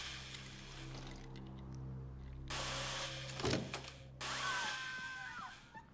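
Heist drill running in the video game Payday 2, a steady mechanical whirring hum with a loud clunk midway and game noises layered over it at moderate volume.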